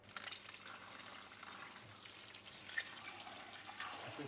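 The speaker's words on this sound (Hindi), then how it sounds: "और ठंडा पानी फेंक लेंगे नल का।" Cold tap water splashes over boiled spaghetti in a strainer, a steady rushing hiss of running water with faint clatter, close and continuous throughout.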